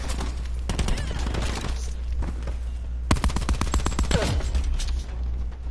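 Rapid bursts of automatic gunfire in Call of Duty: Black Ops 4 multiplayer, clustered volleys of sharp shots with brief gaps, mid-distance over a steady game background hum.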